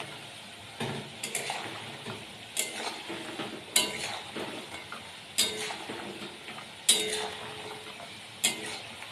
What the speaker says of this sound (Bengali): হালকা আঁচে এরকমভাবে ভেজে নেব